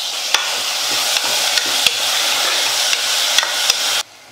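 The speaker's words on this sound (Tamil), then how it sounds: "தக்காளி சேர்த்துக்கிறேன்." Chopped tomato hits a hot pan of onion and ginger-garlic paste, giving a steady close sizzle with a few sharp clicks of stirring.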